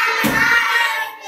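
A single sharp hand clap rings out near the start over a sustained musical backing from a children's song.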